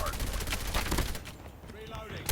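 Gunfire rattles in Call of Duty on the Khandor Hideout map during a hardpoint match, dense rapid bursts that thin out midway before a final sharp shot.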